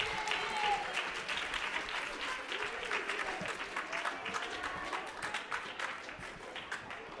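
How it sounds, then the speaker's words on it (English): Sustained audience applause with some cheering at a Women Transcending collective leadership celebration during the Beyond the Bars conference, steady dense clapping throughout with faint voices underneath. "Clap it up, clap it up, clap it up, clap it up."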